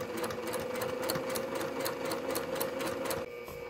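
A sewing machine runs steadily while stitching linen fabric for an 18th-century shift, a close, even mechanical whir with a rapid needle rhythm that stops abruptly near the end.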